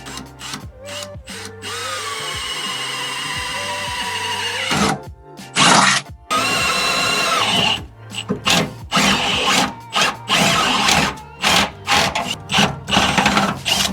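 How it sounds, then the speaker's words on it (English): A power drill runs loud and close, revving up and down while drilling holes for grommets on a first-generation Toyota Tacoma, then stops and starts in short choppy bursts. "I think I'll drill the two holes like right over here"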